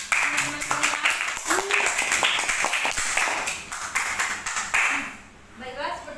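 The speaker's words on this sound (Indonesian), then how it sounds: "Beri tepuk tangan untuk teman-teman semuanya." Children clapping in a classroom at a teacher's prompt, a quick patter of small hands lasting several seconds under a teacher's voice, then thinning out near the end.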